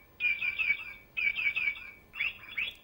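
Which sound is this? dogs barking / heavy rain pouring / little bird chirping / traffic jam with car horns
little bird chirping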